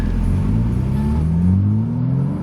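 A BMW G80 M3 running a Bootmod3 tune revs and pulls hard, a close, loud engine note climbing steadily in pitch for a couple of seconds.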